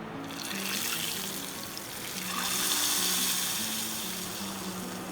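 A hot tadka poured into dal, a loud steady sizzle and hiss swelling as the tempering hits the lentils, continuing throughout with no talk.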